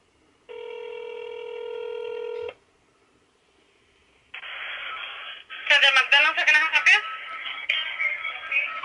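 Phone line tones sound for a prank call to a fast food restaurant: a steady electronic tone lasts about two seconds, then after a pause a telephone-filtered voice speaks over a faint line hiss.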